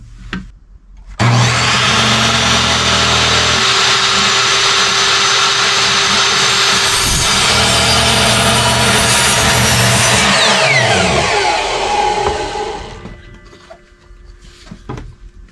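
A handsaw or power saw cuts steadily through scrap wood, making a plumb cut for a sawhorse. The loud, continuous rasp runs for about ten seconds without a break, then trails off and stops.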